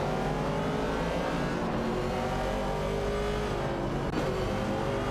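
Racing cars in a video game, a 1970 Pontiac Firebird and a Ford Mustang Boss, roar continuously with layered engine tones and shifting revs, loud and close without any voices.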